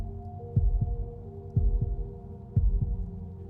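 A slow, steady heartbeat thumps in three evenly spaced double beats, deep and close, over a low sustained hum, alone with no voices.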